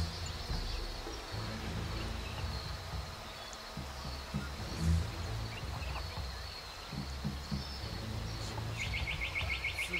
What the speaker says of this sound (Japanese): 鳥の声。